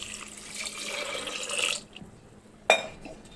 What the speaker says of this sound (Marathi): यामध्ये पाणी ॲड करायचं.